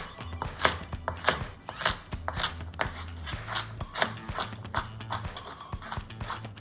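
A knife slices carrots into rounds on a cutting board, a run of crisp, rhythmic chops at close range, evenly spaced with a few quicker clusters, and no talking.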